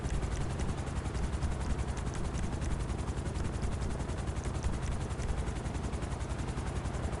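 Helicopter rotors chop steadily in GTA Online, a loud, unbroken mechanical drone with rapid rhythmic pulsing, and scattered gunfire rattles beneath it throughout.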